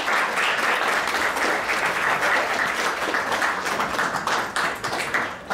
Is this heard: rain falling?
no